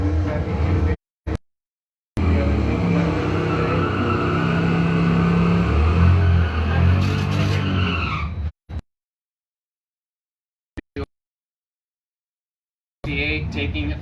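A Chevrolet C10 truck at a drag strip roars under hard acceleration for several seconds with tire squeal, then cuts off abruptly into silence, with a brief burst of engine noise returning near the end.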